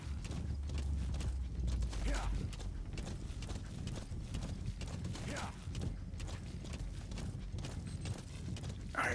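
Horse hooves in the video game Metal Gear Solid V, a steady clip-clop of footfalls with faint creaks and mechanical clatter, moderately loud under a continuous game soundscape.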